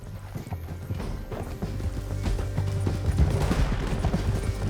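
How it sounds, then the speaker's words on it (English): Horse hooves clip-clop at a steady trot in the Western video game Red Dead Redemption 2, close and rhythmic, with a low rumble and faint background game noise beneath the hoofbeats. "Get him on your horse."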